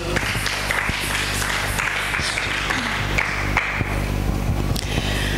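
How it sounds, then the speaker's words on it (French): A church congregation applauding for the Lord, a continuous dense wash of hand claps from many people, steady and fairly loud throughout. "On acclame pour le Seigneur."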